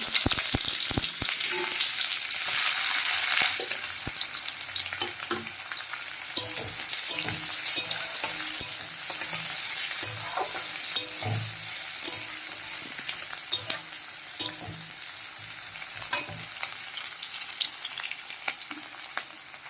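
Whole cumin seeds and chopped onions hit hot oil in a pan with a loud, dense sizzle at first, settling into a steady, close frying hiss with small crackles and occasional stirring scrapes.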